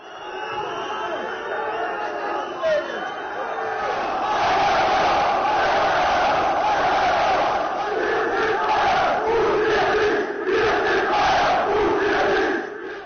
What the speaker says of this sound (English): we can now take a listen, courtesy of Deutsche Welle, the booing at the Bayern AGM